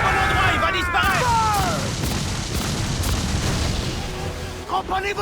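Ship cannons in Assassin's Creed IV Black Flag fire in a heavy booming salvo with a whistling sweep, followed by rumbling impacts and a few further thuds, while voices shout orders over it.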